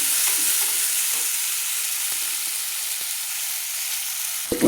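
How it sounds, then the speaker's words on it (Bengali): Spices and melted tomato sizzle in hot oil for a Bengali bata fish and mati aloo curry, a steady bright frying hiss with faint scraping stir strokes and a louder clatter at the end. "এবার আমি দেখুন সব মশলাগুলো আমি একসঙ্গে তেলের মধ্যে কষিয়ে নিচ্ছি।"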